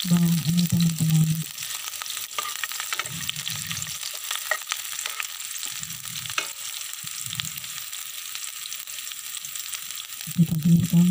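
Shallots fry in hot oil with a constant bright hiss and fine crackle, close and fairly loud, with low hum and occasional clatter from stirring, for stir-fried water spinach, with no talk.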